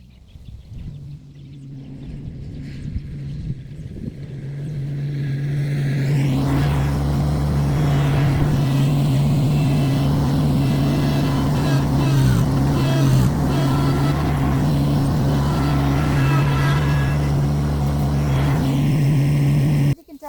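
A tractor engine rumbles up and holds a steady, heavy drone close by while scraping grass in a garden, with scraping and clanking underneath, after a quieter opening.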